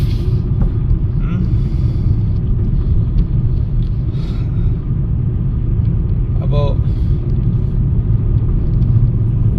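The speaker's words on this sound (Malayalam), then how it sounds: "ഞാനിപ്പോൾ പുറത്ത് ഈ ഗ്ലാസ് താഴ്ത്തിയിട്ട് കഴിഞ്ഞാൽ കാറ്റടിക്കുന്നതിൻ്റെ സൗണ്ട് നിങ്ങൾക്ക് കേൾക്കാൻ പറ്റും" Strong wind rushes into a car through a lowered window while driving past a wooded area, a loud, steady low roar and buffeting that lasts throughout, with a voice speaking briefly over it.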